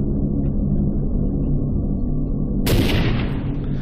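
A loud gunshot in the game S.T.A.L.K.E.R. bursts out with a sharp crack and a fading rumble over a steady low droning background.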